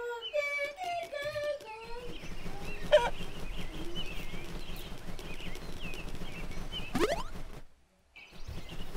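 Chickens cluck and squawk in a Peppa Pig children's video game: a rapid run of cartoonish clucks opens over busy game music and effects, followed by further brief bird calls.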